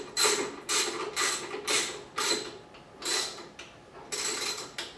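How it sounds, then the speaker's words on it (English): A wrench tightens the aluminum handlebar bolt on a Razor EcoSmart Metro scooter, giving close, rhythmic ratcheting creaks in short repeated strokes with brief pauses between, no voices. "I'm gonna finish the top one with a decent wrench."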